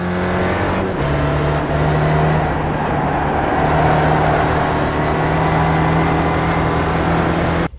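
A Spec Racer Ford race car at Laguna Seca in the iRacing game roars at full power, a loud, steady in-car engine note with brief shifts in pitch early on, no talking over it.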